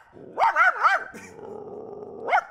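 A person's voice imitates a dog, giving a quick run of three barks followed by a lower growl and one more bark after a pause.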